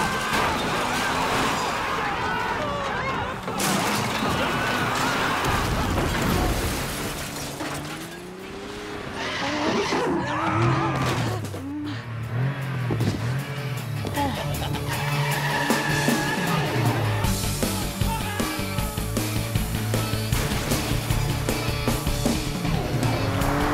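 A car speeds away in a chase, its tires squealing and skidding repeatedly over the engine's roar, with a brief lull midway before the screeching and revving pick up again and continue to the end.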